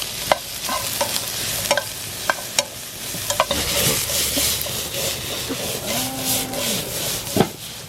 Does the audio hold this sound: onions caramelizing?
yes